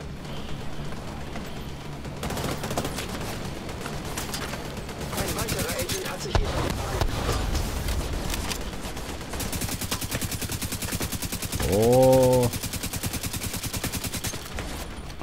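Rapid automatic weapon fire in Tom Clancy's The Division 2, a dense, steady stream of shots running nearly throughout with heavy game action underneath and a brief sweeping tone near the end.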